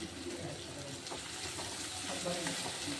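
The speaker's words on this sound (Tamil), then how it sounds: "வெங்காயம் நல்லா வெந்து வரட்டும் உப்பு சேர்த்து வதங்கிக்கணும்" Onions cook with salt in a pan for appalam kuzhambu, making a continuous soft sizzle with faint stirring scrapes throughout.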